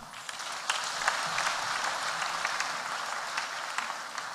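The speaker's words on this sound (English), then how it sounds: "Let us clap to the Lord for the wonderful service we've had" A church congregation claps together after a Sunday service, a steady wash of many hands heard faintly from a distance, continuous with scattered sharper claps and no talk over it.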